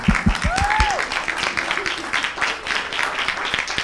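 Steady applause from an audience at a children's Republic Day cultural program in a Parsippany temple, a crowd of clapping hands blending into a continuous wash with a brief vocal tone near the start.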